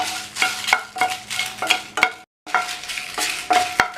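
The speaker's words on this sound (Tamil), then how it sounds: "அடுத்து காஞ்ச மிளகாய் வறுக்கணும்." Dried red chillies are dry roasted in a pan, producing a rhythmic scraping and rattling as they are stirred. About one stroke comes every half second, close and moderately loud, with a brief pause partway through and no talking.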